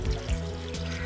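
Water is poured into a mini washing machine, a steady close gurgling stream lasting about a second with no voices.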